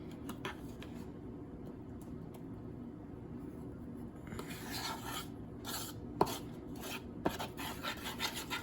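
Banana nut bread batter being stirred in a bowl, a soft continuous scraping and rubbing, close and quiet, with a few sharper clicks from the utensil toward the end.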